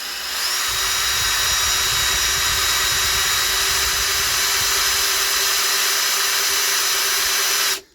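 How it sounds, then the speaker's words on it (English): A power drill whines steadily and loudly at high pitch, boring continuously through plastic into aluminium for several seconds before cutting off abruptly. "So I'm going to drill through here."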